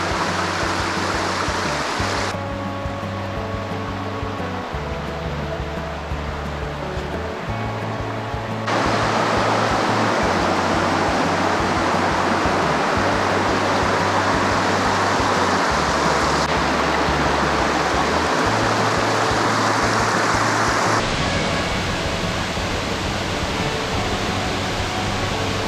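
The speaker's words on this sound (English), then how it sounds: "do y'all hear that? The sound of water flowing" Flowing water and a waterfall on a trail in Maine make a steady, dense broadband rush that holds at an even level throughout, with low tonal sounds running underneath.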